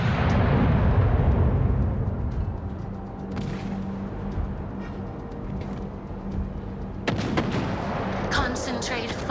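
Naval artillery in the World of Warships: Legends game booms out in heavy, rumbling salvos, with a loud blast at the start, a sharp crack midway and another volley near the end over a constant sea-battle din.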